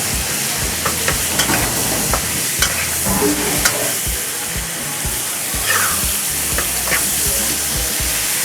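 Marinated chicken frying in rapeseed oil in a pan, a loud, steady close-up sizzle with crackles and occasional stirring scrapes throughout.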